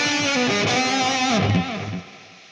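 An electric guitar played through a ToneLibFX amp simulator with a delay effect, notes smeared and repeating, sustained tone fading away at the end.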